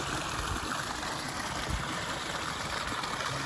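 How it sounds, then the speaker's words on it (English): Water flowing through a pondless garden waterfall in a small Toluca Lake, California yard, a steady, soft rushing wash that holds unchanged throughout with no voices. "This is a tour of our most recent Pondless Waterfall project."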